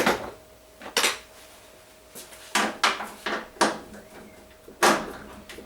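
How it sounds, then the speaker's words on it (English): Metal and plastic clunks and scrapes come from removing the door of a Hotpoint washing machine, several sharp knocks spaced irregularly, close and loud with no voices. "So we'll remove the door."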